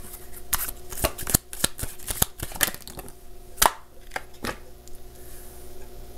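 Tarot cards are shuffled and drawn up close, a series of crisp riffling snaps and flicks in an irregular rhythm over a faint hum.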